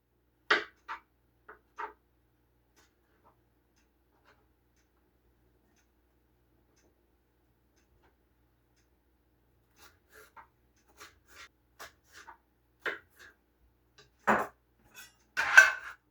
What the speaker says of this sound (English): I'm going to dice these up.